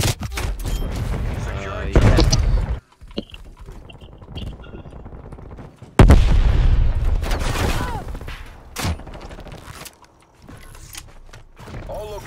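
Gunfire in the video game Call of Duty Cold War, sharp bursts and mechanical clatter in a busy game mix, with voices talking throughout.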